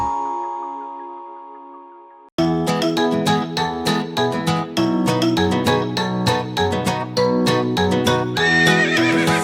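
A horse whinnies and hooves clip-clop in a lively children's nursery rhyme backing track, with a quiet chime intro before loud, bouncy music and a rhythmic beat.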